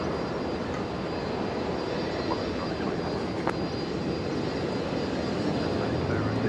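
A jet airliner takes off from runway 19 right at Brisbane Airport, a steady, loud broadband engine roar holding evenly throughout with no break.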